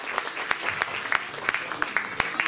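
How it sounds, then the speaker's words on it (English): A crowd at an evening cultural event claps in a loose, fairly sparse round of applause, with individual sharp claps standing out and voices mixed in. "Let's hear one more round of applause for the last event of the evening"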